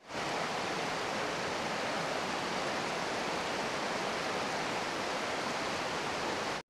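Small waterfalls and rushing river rapids on a salmon migration route roar in a steady, unbroken wash of white noise, close and constant, with no voices.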